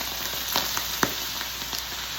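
Vegetables for fajitas sizzling in a hot pan, a soft steady crackle dotted with a few sharp pops, fairly quiet and close with no voices.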